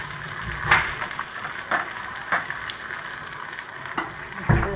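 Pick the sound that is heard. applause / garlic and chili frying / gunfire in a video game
garlic and chili frying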